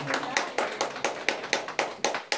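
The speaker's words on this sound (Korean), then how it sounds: "선생님 강의를 우리가 박수로 열심히 시작하겠습니다" A small audience claps to open a school teacher-training lecture; sparse, uneven hand claps, close and distinct, arrive in a loose rhythm of about four per second for two and a half seconds.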